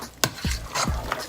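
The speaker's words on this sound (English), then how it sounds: "I'm going to stir all of this" Utensil stirring chicken and shrimp Alfredo with mozzarella and Parmesan in a pan, giving three short scraping strokes with a faint sizzle, close up and alone.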